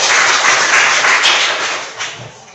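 A classroom audience claps after a presentation, a dense burst of applause that holds steady and then thins out and fades within a couple of seconds.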